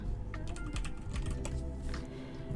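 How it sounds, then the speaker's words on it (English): Rapid, uneven clicking of a computer keyboard as a search is typed, close and dry, a quick run of keystrokes with no voices over it. "So you can literally just type in like Sims 4, Gshade."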